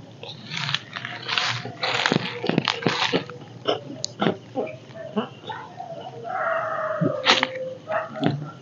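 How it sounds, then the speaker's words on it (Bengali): Several dogs bark in sharp, repeated bursts outdoors near water with fish, some close and some farther off, over a steady background murmur. "কি রে ভাই এত কুকুর ডাকছে কেন?"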